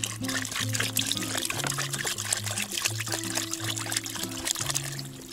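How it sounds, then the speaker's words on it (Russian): Water pours into a cooking pot for duck soup with tomatoes, a continuous splashing trickle running for several seconds over soft background music. "А теперь берем и заливаем водой."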